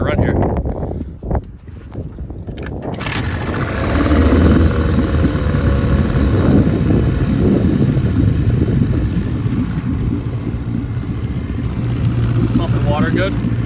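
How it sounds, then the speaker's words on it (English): An Evinrude 9.5 hp outboard motor on a small boat starts up and settles into a steady, loud running drone that continues without a break, with wind buffeting the microphone throughout. "So we'll take it for a run here."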